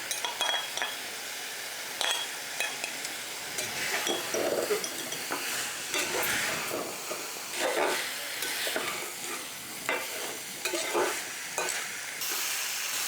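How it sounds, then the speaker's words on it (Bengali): Fried bojuri fish stirred into spice masala frying in a pan, a low sizzle under repeated scraping and clinking of a spatula against the pan, close and steady throughout. "মশলাটা ভাজা হয়ে গেছে এই পর্যায়ে দিয়ে দিচ্ছি ভেজে রাখা মাছগুলো"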